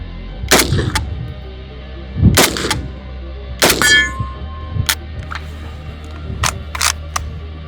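An HK C93 rifle with a feeding fault is fired and its action cycled by hand, giving several sharp loud metallic clacks and clangs spaced a second or so apart, with a brief ring and smaller clicks between.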